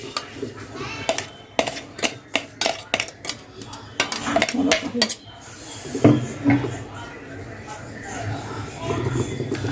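Chutney is scraped out into a tawa pan with sharp metallic clinks and taps of utensil on pan, clustered in quick bursts, close-up, with a voice speaking in the background.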